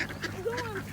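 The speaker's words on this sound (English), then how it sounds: "today I'm feeding the ducks bread." Ducks quack close by while being fed bread, a few short nasal calls with a rising-falling tone over steady outdoor background noise.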